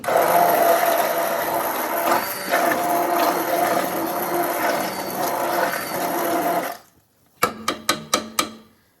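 A blender purees black beans with broth for soup, giving a loud, steady whirring roar for about seven seconds before cutting off abruptly, followed by a few sharp clicks.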